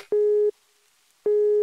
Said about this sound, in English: Still got that empty dial tone.